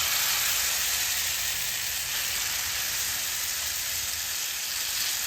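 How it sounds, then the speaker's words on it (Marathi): Besan chilla batter sizzling steadily in hot oil on a pan, a dense continuous frying hiss up close with no break and no voices. "तर ह्यावरती मी आधी तेल सोडते आणि आपलं हे जे बेसनचं बॅटर तयार करून ठेवलं होतं आपण ते ह्यावरती टाकूयात"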